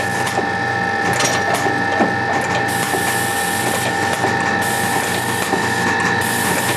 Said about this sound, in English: Now the elevator's going down, it'll automatically index in the next loaded magazine that's just sitting there waiting.